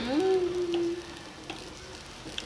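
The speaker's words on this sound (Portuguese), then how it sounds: "E o legal dessa frigideira antiaderente é que ela continua ainda fritando." Ground beef farofa keeps sizzling in a nonstick frying pan after the heat is switched off, a steady close crackle under a brief tonal whine at the start, then a quieter fizz.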